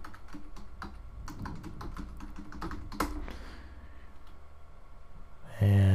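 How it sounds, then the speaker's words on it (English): Rapid, uneven clicking of a computer keyboard as a password is typed, close and clear for about five seconds, then cut off by a sudden low hum. "assuming I typed everything right"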